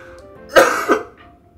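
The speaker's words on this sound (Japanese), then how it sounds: "ずっと咳が、辛そうです" A person with a fever above 40 degrees coughs and clears their throat, two close, harsh bursts heard nearby with no talk.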